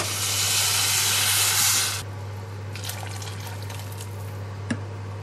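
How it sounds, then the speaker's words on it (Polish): Boiling water pours over warmed rice in a pot for spinach green rice, about 2.5 measures of water per measure of rice, a loud rushing hiss for about two seconds that then stops, leaving a quiet steady hum with a few faint clicks. "zalewam całość wrzącą wodą"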